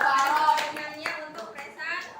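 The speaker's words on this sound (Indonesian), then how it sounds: "Tepuk tangan dong pastinya." Students in a classroom clap for a group about to present, a short ragged burst of hand claps mixed with children's voices talking over it.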